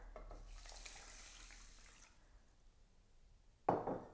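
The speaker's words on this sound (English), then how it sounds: "pour in the water," Water pours into a rice cooker pot holding rice, a soft splashing stream for about two seconds, then a brief louder knock or clatter near the end.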